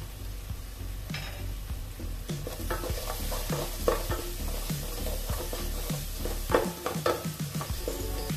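Spices for prawn biryani, including turmeric, chilli powder and coriander powder, sizzle steadily in hot oil while a spoon scrapes and stirs the pan in frequent close strokes, with no talking.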